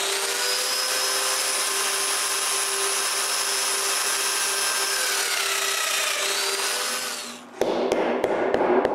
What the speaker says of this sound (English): So I mark and drill some mortises.